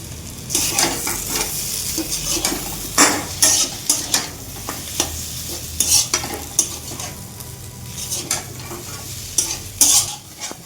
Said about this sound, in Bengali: লঙ্কাটা দিয়ে একটু ভাজলাম, আর একটু ভাজবো